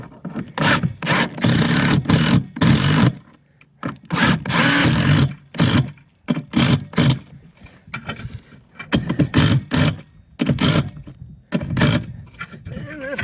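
A power driver screws a solar panel rail mount into a tiled roof in repeated short whirring bursts with pauses between them, close and loud.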